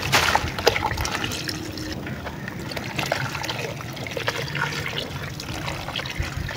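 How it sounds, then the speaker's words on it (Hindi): Water pours steadily from a household tap outdoors, filling a container that holds a few small stones, a continuous splashing flow with light clatter, close and fairly loud throughout. "अभी नल बंद करो"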